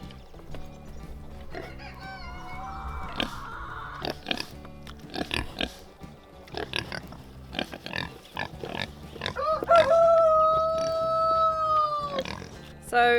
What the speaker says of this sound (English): Oh, the piggies want to say hi. We'll go and say hi to the pigs.